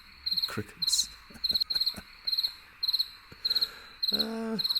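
Crickets chirp in regular pulsing trills, evenly spaced bursts repeating throughout at a quiet level, with a few faint incidental sounds in between.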